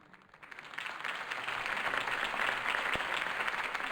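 Crowd applause after a campaign speech in the Batman Telltale video game, swelling from quiet into sustained, dense clapping that holds to the end.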